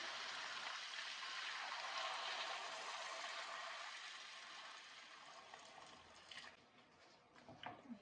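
Hot water pours into a pot of Korean chicken curry, a soft, steady rushing stream that gradually thins out and ends with a few faint clinks and drips.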